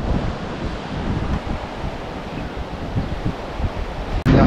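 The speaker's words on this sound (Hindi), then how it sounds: "रोड के ऊपर से पानी बह रहा है" Floodwater from the Teesta floods in Sikkim pours across a road, a continuous loud rushing roar mixed with wind buffeting the microphone, ending in a sudden sharp jolt.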